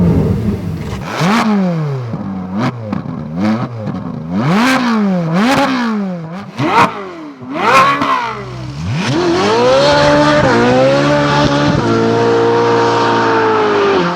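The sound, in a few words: Ferrari 458 Speciale 4.5 litre V8 engine, tire squeal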